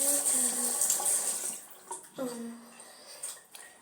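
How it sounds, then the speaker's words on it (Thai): Tap water running and splashing in a bathroom while someone washes their face before a shower, a steady hiss for the first seconds, then gentler intermittent splashes and trickles. "เราก็จะล้างหน้าก่อนอาบน้ำ"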